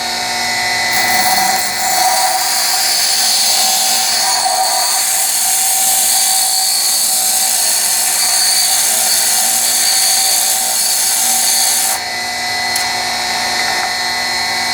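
A lathe threading tool bit is ground on a bench grinder, a steady high-pitched whine with continuous grinding hiss that runs loud and close for most of the stretch before easing near the end, with no talking.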